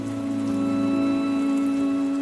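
Steady rain falls in an animated children's story, a constant hiss of drops under a sustained tonal background bed, with no talking in this stretch.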